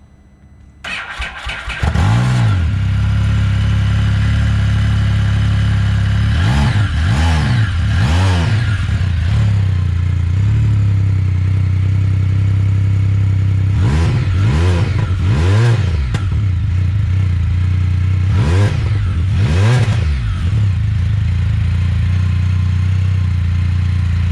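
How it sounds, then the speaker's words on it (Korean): Engine of a car fitted with an Akrapovic aftermarket muffler starting up, then settling into a steady idle broken by several sharp blips of revving in clusters, loud and close, with no talk over it. "이 아크라포빅 머플러의 배기음을 한번 제가 들려봐 드리도록 할 테니까요"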